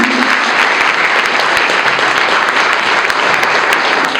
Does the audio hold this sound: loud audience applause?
yes